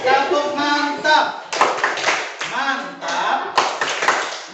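Schoolchildren do a short rhythmic clapping chant in a classroom, a few sharp clap bursts alternating with loud group chanting and an adult's voice.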